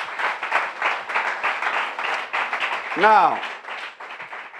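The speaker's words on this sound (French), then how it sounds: "Clap your hands for Jesus" A church congregation claps in a quick, regular rhythm that pulses steadily and fairly close. A voice speaks briefly over the clapping partway through.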